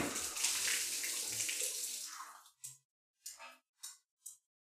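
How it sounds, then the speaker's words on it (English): Water pouring and splashing from a full humidifier onto a bed, a steady wash of liquid sound for over two seconds, then a few short separate drips and splashes as it stops. "A full humidifier with water that I just spilled on my bed."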